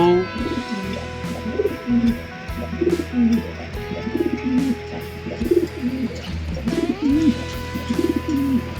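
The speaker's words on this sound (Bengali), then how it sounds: "মাশাল্লাহ কত সুন্দর কবুতর" Fancy pigeons at a pigeon farm coo close by, several birds repeating soft throaty calls in steady overlapping bursts, with no talk.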